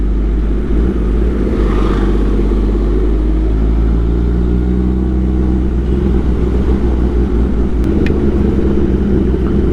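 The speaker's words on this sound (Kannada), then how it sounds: "ಈ ಥ್ರಾಟ್ಲ್ ಸ್ವಲ್ಪ ಹಂಗೆ ಓಪನ್ ಮಾಡಿದ್ರೆ ಆಯಿತು, ಗಾಡಿ ಹಂಗೆ ಬಂದ್ಬಿಡುತ್ತೆ" A vehicle's engine rumbles loudly and steadily as the throttle opens, low drone rising slightly under ride-along road noise in traffic, with no voices over it.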